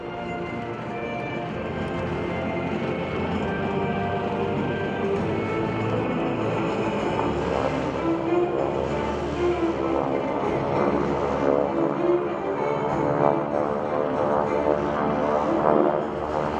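Propeller aircraft of a military-style formation diving in a high-angle spiral strafe over an airshow target area at a joint base open house, a steady loud engine drone with a rising and falling pitch that holds throughout, no talk.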